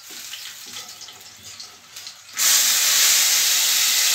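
Chebureki fry in hot oil in a pan. Quiet handling sounds suddenly give way to a loud, steady, close sizzling hiss with spattering that continues to the end.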